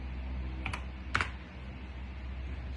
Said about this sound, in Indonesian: Lalu kita ketikkan service.msg ya.